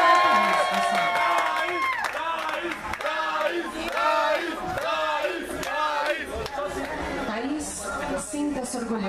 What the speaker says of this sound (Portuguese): Aplausos para a Thaís, pessoal.